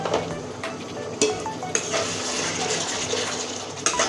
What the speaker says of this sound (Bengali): এখন অল্প পরিমাণে জল দিয়ে দিচ্ছি না হলে গুঁড়ো মশলাটা পুড়ে যাবে জল দিয়ে কষতে থাকবো